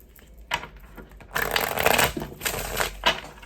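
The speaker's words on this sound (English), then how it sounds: "Okay, one more shuffle." Tarot cards riffle and slap together in quick bursts, a close, papery shuffling repeated several times in a quiet room.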